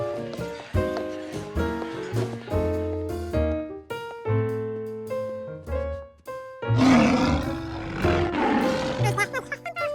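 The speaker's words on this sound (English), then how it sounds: "the lions were too loud" Cartoon lions roaring loudly in a museum setting, the roars rising over musical tones and a burst of louder roaring near the end.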